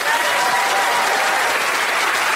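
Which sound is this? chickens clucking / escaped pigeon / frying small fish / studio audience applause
studio audience applause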